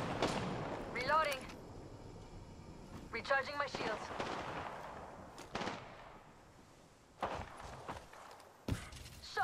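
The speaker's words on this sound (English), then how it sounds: "They're shooting at me." Gunfire in the battle royale game Apex Legends: several separate sharp bursts and single cracks spaced a few seconds apart, punchy against a low game background, with a voice talking in between.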